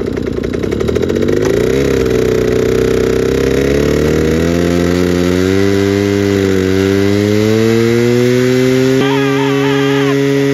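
A scooter engine revs up from idle and holds a high, buzzing whine, the pitch climbing in steps, loud and close, with no talking.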